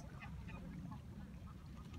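Ducks quacking at a wetland bird reserve, several scattered calls over a constant outdoor background murmur, fairly distant and moderate in level.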